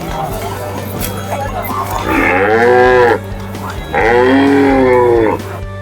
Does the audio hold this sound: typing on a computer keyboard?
no